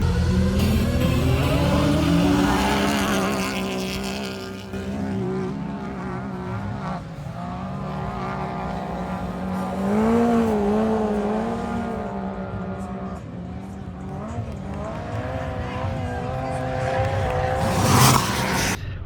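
Turbocharged sand cars on paddle tires, including a Pro R turbo EFI running pump gas, race across the Glamis dunes with sustained engine drone and rising revs, loudest near the end.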